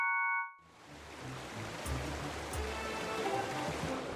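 Flowing stream water in The Legend of Zelda: Skyward Sword, a soft, continuous rushing that rises in after a brief moment and then holds steady at a low level.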